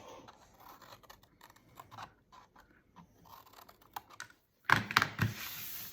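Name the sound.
trimming cardboard tabs of a candle box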